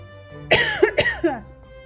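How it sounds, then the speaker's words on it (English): Two sharp coughs burst right into a microphone, close and loud, the second following about half a second after the first, with brief throat rasps trailing each. "I just coughed right into the microphone."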